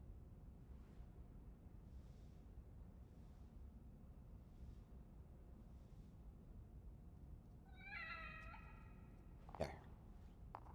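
A cat in the horror video game The Evil Within meows in a short rising-falling call near the end, over a faint low ambient hum and a few soft earlier tones, followed by a brief sharp thud.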